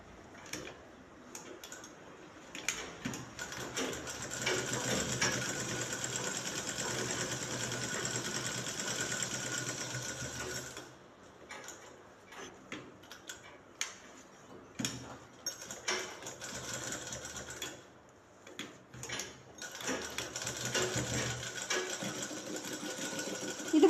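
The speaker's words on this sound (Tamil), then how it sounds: "அப்படியே டர்ன் பண்ணி கேன்வாஸ் ஓரமாகவும் ஒரு தையல் போடலாம்." A sewing machine stitching a shirt collar along the canvas edge, running in long steady whirring bursts with a short pause and some brief stop-start stitching before it runs again.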